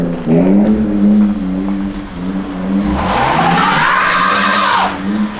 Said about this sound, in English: Dude, this is all ice. I am full throttle. Get it, Volkswagen.